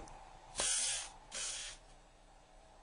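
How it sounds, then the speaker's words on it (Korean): Hairspray hisses from an aerosol can in two firm bursts, the first longer than the second, with a short pause between them and a quiet room around it. "높이 세워진 머리카락을 손가락으로 살살 빗어넘기면서 헤어스프레이를 힘껏 뿌린다."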